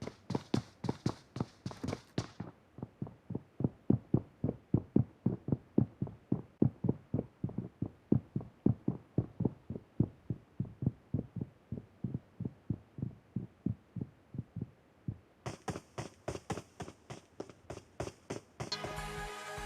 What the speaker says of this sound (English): Proper three-story buildings have footsteps sounds like this.